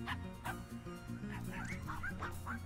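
Repeated yapping barks from the Rude Dog enemy in the video game Finding Paradise, several short bursts over steady game music, fairly quiet.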